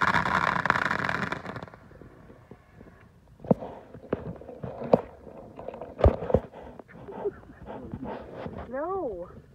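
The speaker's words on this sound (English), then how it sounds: "Fireworks!" Backyard fireworks at a small home celebration, several sharp bangs and crackling pops scattered over a few seconds, with a dog moving about and people talking and cheering around them.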